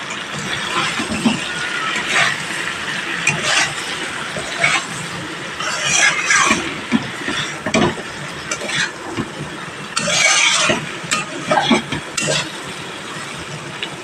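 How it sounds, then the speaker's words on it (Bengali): Potatoes, spices and roasted coconut are stir-fried in a pan for a Bengali vegetarian dalna, making a continuous close sizzle with irregular bursts of scraping as the mixture is stirred. "এখানে যে নারকেল পোড়াটা রেখেছিলাম এখানে দিয়ে আরও দু মিনিট মতো আমি কষিয়ে নেবো"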